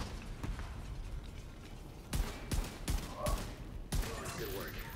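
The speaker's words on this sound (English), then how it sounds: "Headshot kills create a 5-meter explosion dealing 400 weapon damage and apply bleed to all enemies hit." Several sharp, sudden blasts from headshot-kill explosions in The Division 2, spaced about half a second apart over steady background game noise and a talking voice.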